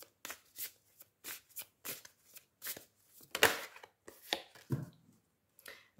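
A deck of oracle cards is shuffled by hand in a quiet room, giving a series of quick, close riffling and flicking bursts separated by short pauses.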